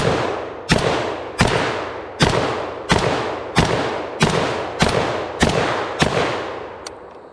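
A Dragunov rifle fires at the range at dusk, about ten sharp, loud semi-automatic shots spaced under a second apart, each with a booming echoing tail and no talk between them.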